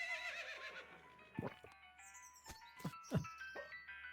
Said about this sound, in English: there's a drunk horse there